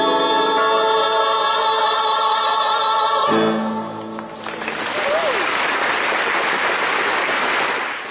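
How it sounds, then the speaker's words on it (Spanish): A church congregation breaks into a dense, steady wash of clapping after sustained tones fade out, and the applause continues loud and even to the end. "Y los fieles aplauden a discreción"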